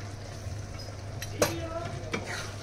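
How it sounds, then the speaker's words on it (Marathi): Cashew curry mixture in a pan gets stirred, with a couple of sharp spoon scrapes against the pan over a low steady hum and faint background sizzle. "पुन्हा एकजीव करून घेऊया सगळं मिश्रण"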